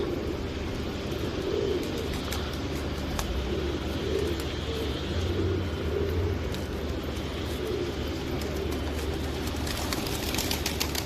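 Pigeons at a coop give soft, low cooing over a steady outdoor background hum, with faint traffic and a distant aircraft-like drone underneath; no voices stand out.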